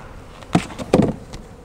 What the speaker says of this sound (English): This top super's full of bees.